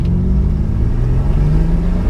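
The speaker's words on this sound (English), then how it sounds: "let's see what acceleration feels like in the GMC Typhoon" A 1993 GMC Typhoon turbo engine accelerates, a heard-from-inside steady low rumble that grows slightly brighter over a couple of seconds, with no talk.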